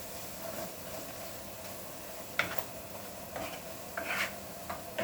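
Herring fries quietly in a pan with a low, even hiss, broken by a few light clicks and taps of utensils.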